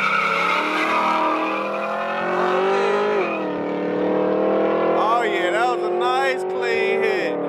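An LS-swapped Chevrolet Malibu on nitrous roars down a drag strip, engine note climbing through gear changes while a voice talks over it and tires chirp near the end.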